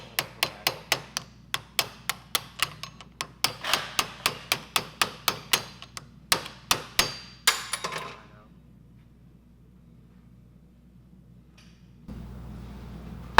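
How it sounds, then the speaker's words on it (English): Hammering a split wheel bearing race out from the back on a 2010 Honda front hub, about twenty sharp metallic strikes in quick steady rhythm, close and loud, then quiet. "Once it splits, you just hit it from the back."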